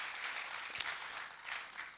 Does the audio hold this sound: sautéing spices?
no